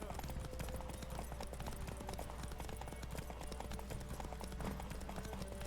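A horse gallops in The Witcher 3, its rapid, steady hoofbeats running continuously under dense, constant game sound.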